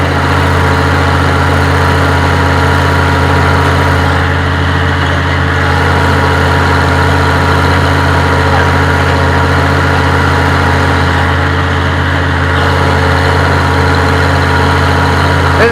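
A tractor engine runs steadily and loudly while cultivating a field, its low droning hum and harmonic whine constant throughout with no one talking.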